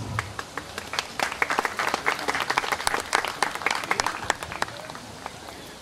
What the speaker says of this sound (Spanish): Recibamos con un fuerte y caluroso aplauso a nuestro buen amigo y compañero Ever